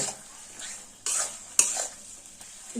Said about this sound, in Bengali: সর্ষে পোস্ত আর কাঁচা লঙ্কা বাটাটা শিমের সঙ্গে দেড় দুই মিনিট একটু ভেজে নেব